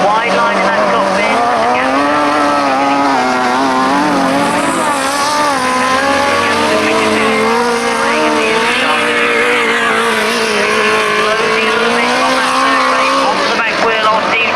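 Motorcycles in a 1991 grasstrack race roar past at close range, a continuous loud engine drone rising and shifting in pitch as the bikes sweep by on a wide outside line, with commentary voiced over the top throughout.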